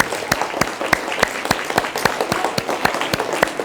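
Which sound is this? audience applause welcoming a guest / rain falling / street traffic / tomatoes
audience applause welcoming a guest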